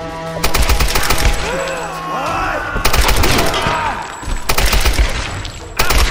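Gunfire from the video game Tomb Raider comes in loud, rapid bursts of repeated shots with brief pauses and whistling ricochet effects, and faint vocal sounds sit under the gunfire.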